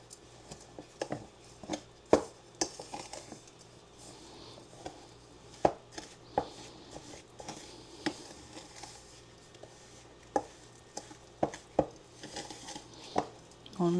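A spoon knocks and scrapes around a bowl while a brown sugar mixture is stirred, giving irregular sharp taps against the sides over a quiet background, with no talking.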